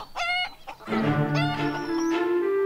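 Chickens cluck and squawk up close, short rising calls overlapping with a longer drawn-out crowing note.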